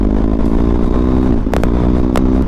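A BMW R 1250 GS Rallye motorcycle cruising: a loud, close, steady engine drone with a throbbing low rumble and a few sharp wind or road bursts, no voices.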